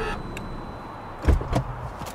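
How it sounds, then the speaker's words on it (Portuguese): A BMW car approaching at night and pulling to a stop nearby, with a low rumble and a couple of heavy thumps as it halts, fairly close and without voices. "um carro aproxima-se e para ao lado dele"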